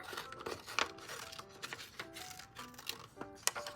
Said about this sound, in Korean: 종이 전체를 들고 자르는 건 힘들기 때문에 근처 모양을 먼저 잘라줍니다